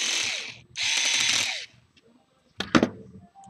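Screws being backed out of the rear suspension arm mount on an HBX Survivor RC car, releasing the shock absorber: two close bursts of bright ratcheting driver noise, then a short clatter of small parts, near and with no talk.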